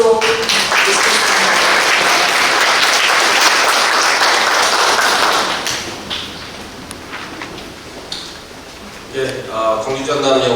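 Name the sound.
audience applause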